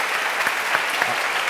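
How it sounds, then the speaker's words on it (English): A university debating society audience applauds a guest comedian, steady dense clapping that fills the hall for the whole stretch with no pauses. "can everyone give a massive round of applause to Paul?"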